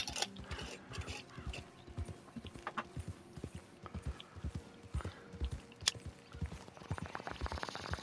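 Horse hooves clip-clop at a steady galloping rhythm in Red Dead Redemption 2, close and continuous, with scattered mechanical clicks and rattles of gear over the pounding beat.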